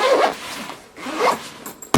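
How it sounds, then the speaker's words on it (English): A zipper is pulled shut on a packing bag in two close, rasping strokes, with a brief pause between them and a sharp click at the end. "We're going to zip up this bag."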